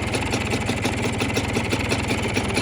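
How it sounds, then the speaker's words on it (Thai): A Honda MTX 125 motorcycle engine, nearly 30-40 years old, idles nearby with a steady, even putter, its rhythm unchanging. "เครื่องยนต์ก็เดินเบานิ่งปกตินะครับผม"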